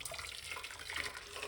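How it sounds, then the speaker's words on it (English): Water poured from a container into a cooking pot in a home kitchen, a faint continuous splashing trickle lasting briefly with no talk. "We got 1 large cups of water"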